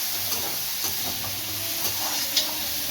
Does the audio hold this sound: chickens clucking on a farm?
no